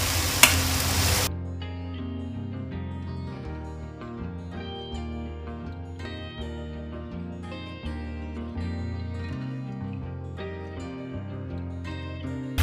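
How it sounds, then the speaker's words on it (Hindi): Fried aloo gobi curry being stirred into garam masala and oil in a pan, with a steady run of close scraping and clinking strokes over a low sizzle and no talk. "तो तब तक हम हिलाएंगे जब तक इसका ऑयल सेपरेट ना हो जाए।"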